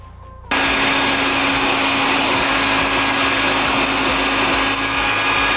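A freshly cleaned vacuum cleaner switches on abruptly and roars steadily as air rushes freely through its cleared hose, a loud, close, continuous whooshing drone with no talk.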